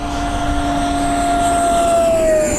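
An E-flite F-4 Phantom II 80mm electric ducted-fan RC jet flying by, a loud steady whine holding close with a slowly falling pitch as it passes.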